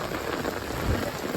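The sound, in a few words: heavy rain during a flood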